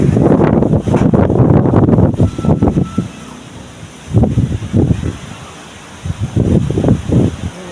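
Heavy wind buffets the microphone in loud, low rumbling gusts that swell and drop, with quieter lulls between them.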